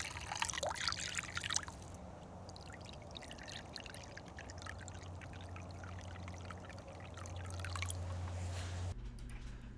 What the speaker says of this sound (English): I'm just pouring a little water in to wash it out